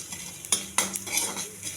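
Mustard seeds, cumin and chana dal frying in a tempering for tomato putnala chutney, with a sizzling crackle broken by sharp metal spoon scrapes and clinks against the pan, close up and without speech.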